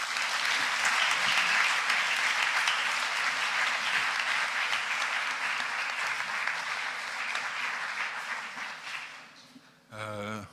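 A seated audience at an opening event applauds authors receiving dedicated books, sustained dense clapping that gradually fades out near the end before a brief voice comes in.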